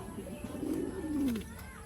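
A young pigeon gives a low, rolling coo, one drawn-out call rising and then falling near the middle, close and fairly soft over quiet background hiss.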